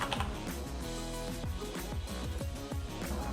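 Typing on a computer keyboard at a desk, a steady run of quick clicking keystrokes close by, layered over soft background music with no talk.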